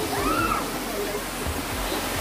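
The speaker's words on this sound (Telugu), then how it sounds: "2 అవర్స్ ఆఫ్ లాంగ్ ట్రిప్పింగ్ ఈ చిన్న వాటర్ ఫాల్ చూడడానికి వచ్చాము" A small clear waterfall at Gandikota pours with a steady rushing splash, and a voice speaks briefly partway through over the constant flow of water.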